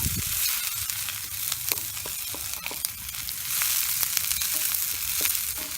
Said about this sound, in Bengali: আমি আর একটু তেল দিয়ে নিচ্ছি, সব সরিষার তেল দিয়েই করব। পেঁয়াজটা আমার হতে থাক।